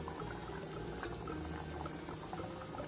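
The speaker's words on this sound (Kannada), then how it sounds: "ನಂತರ ಒಂದೊಂದೇ ಪೀಸಸ್ನ ಇದೇ ಬಾಣಲಿಗೆ ಹಾಕ್ಕೊಳ್ಳೋಣ." Sweet shankarpoli pieces fry in hot oil in a pan, a faint continuous bubbling sizzle with small crackles, no voices.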